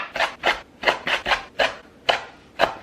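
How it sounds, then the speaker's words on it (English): Knife chopping kale and other vegetables on a cutting board, about seven crisp, rasping strokes in an uneven rhythm, close and clear with no talk. "Just grab it all together and chop it like this."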